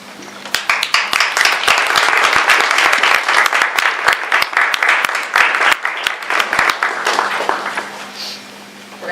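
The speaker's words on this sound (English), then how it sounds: "give them a round of applause" Audience applause at a donor recognition event for a college food pantry, with loud, sustained clapping from a crowd that holds steady for several seconds before tapering off near the end.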